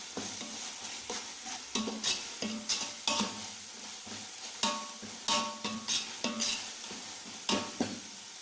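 Ginger garlic paste frying with onions for chicken biryani, a low continuous sizzle punctuated by frequent irregular scrapes and knocks of a ladle stirring against the pot, close and moderately quiet, with no talking.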